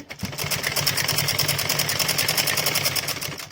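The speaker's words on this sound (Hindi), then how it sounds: "तो मैं सिलाई लगा लूँगी और दोनों बाजू जोड़ लूँगी" Sewing machine stitching the seams of a top, a loud, fast, even mechanical chatter running steadily up close for the whole stretch, with no talk over it.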